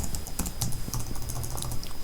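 Someone types a line of code on a computer keyboard, a quick run of close, light key clicks with a few sharper taps, and no one talking.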